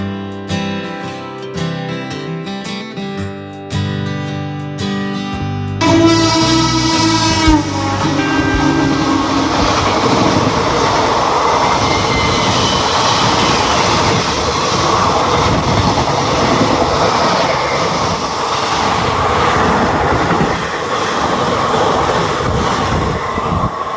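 The 13152 Jammu Tawi Express runs at speed, a loud continuous rumble of wheels and carriages, preceded by a few seconds of tonal music before the train noise takes over.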